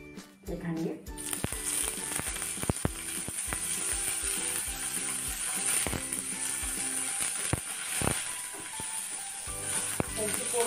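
Paneer pieces sizzle and fry in a hot pan on a home kitchen stove, a steady close crackle with occasional sharp pops and spatters throughout.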